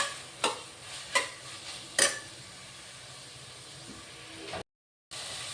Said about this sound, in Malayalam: ഇതൊന്ന് പച്ചമണം മാറുന്നതായി നമുക്കൊന്ന് ഇളക്കി കൊടുക്കാം